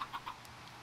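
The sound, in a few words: chickens clucking in a Minecraft-style video game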